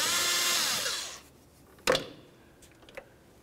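Hose clamp on a Nissan engine's air intake, loosened with an 8mm driver or flathead screwdriver during exhaust manifold work: about a second of steady whirring, then a sharp click and a few faint ticks, with no talk.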